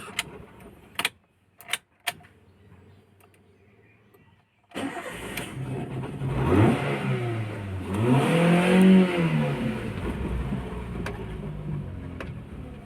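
A Toyota Avanza with an acceleration problem starts up after a few clicks, then its engine revs up and down in uneven swells, loud and close, with no talk.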